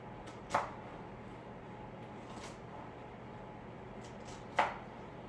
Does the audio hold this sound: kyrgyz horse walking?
no